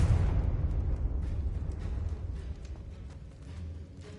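A Confringo blasting curse explodes in Hogwarts Legacy, a loud, deep rumbling blast that starts at full force and slowly decays over a few seconds with scattered debris crackle, heard alone.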